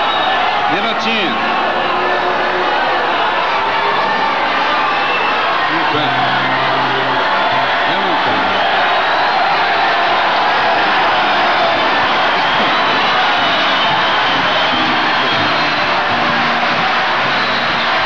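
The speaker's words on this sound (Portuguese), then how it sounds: "Vocês estão vaiando a vocês mesmos." Festival audience at a 1967 Brazilian music festival final, a dense loud crowd roar of booing, whistles and yells sustained throughout, with some indistinct shouting voices inside it.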